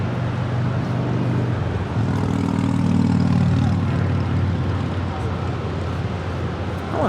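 A Hawaiian Airlines Airbus A330-200 takes off from LAX with a broad, steady jet roar and a droning engine tone that swells slightly, heard from a distance over constant background rumble.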